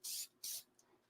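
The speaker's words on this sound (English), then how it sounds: "We are just going to take our Pro Spray for this one and" Pro Spray adhesive is aerosol-sprayed onto a graduation stole in two short, close hissing bursts with a brief pause between them, followed by a faint trailing puff.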